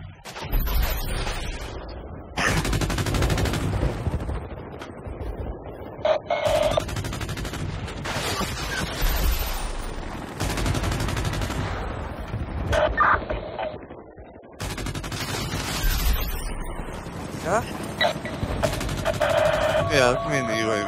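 Rapid bursts of gunfire from the video game Battlefield: Bad Company 2, on the Port Valdez map, crackle almost nonstop, loud and dense, with people talking over the shooting throughout.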